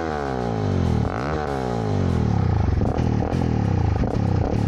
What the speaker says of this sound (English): Let's just listen to it revving here.